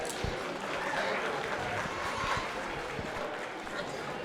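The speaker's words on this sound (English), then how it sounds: "Let's give these three youngsters a round of applause." Audience applause at a junior livestock show, steady dense clapping across the whole stretch with crowd murmur mixed in, moderately loud and continuous without a clear build or fade.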